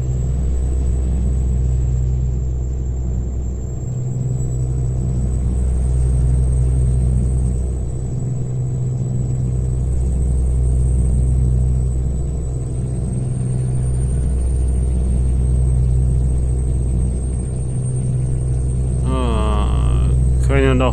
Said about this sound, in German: Der ist ganz schön laut, der Truck hier.